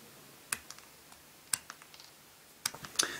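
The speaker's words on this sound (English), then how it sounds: "I'm just going to use the plastic cutters to gently nip all of those away" Plastic cutters nip tabs off a vintage plastic toy track, giving about five sharp, close snips spaced irregularly with faint small clicks between, in a quiet room.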